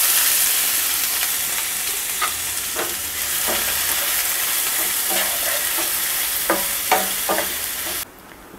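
Onions fry in oil for chicken curry with a loud, steady sizzle and intermittent scraping of a spatula stirring them, fading abruptly at the end.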